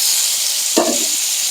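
Tomatoes tossed into a hot pan of frying sponge gourd for a Bengali prawn lunch, the steady loud sizzle swelling into a sudden hissing burst as they hit the oil.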